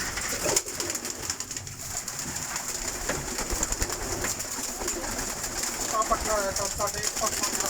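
Pigeons, including colourful pink-tinged flying breeds, coo repeatedly on an open rooftop loft, with outdoor ambience and occasional wing rustles; a voice talks faintly in the background.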